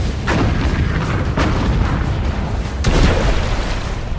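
British battleship guns firing at the Bismarck: heavy, continuous booming with repeated blasts, the loudest near the end, over a dense, rumbling roar.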